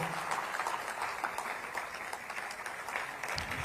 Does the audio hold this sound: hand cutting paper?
no